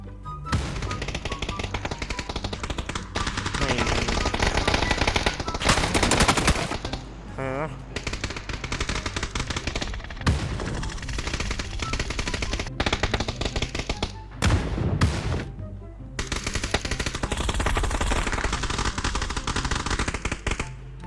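Gunfire in the battle royale game PUBG, loud dense bursts of automatic rifle fire and single shots nearly continuous throughout, with players talking excitedly over it.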